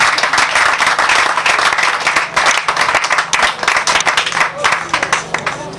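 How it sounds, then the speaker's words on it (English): Funeral service congregation clapping hands together in welcome, loud dense rhythmic clapping filling the room, close and sustained with crowd noise underneath. "Can we clap hands together?"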